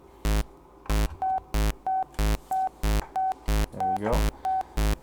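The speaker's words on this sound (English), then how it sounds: "sine wave from my self-oscillating filter." A synthesizer's self-oscillating filter produces a steady sine tone in short repeated notes, alternating with fatter pulse-wave hits in a regular rhythm, loud and close with no talking.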